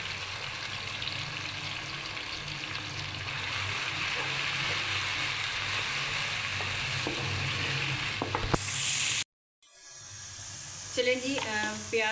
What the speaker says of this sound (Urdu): اب اس میں شامل کر دیتے ہیں۔ اپنے پیاز کو ہلکا سنہری کر لینا اچھی طرح سے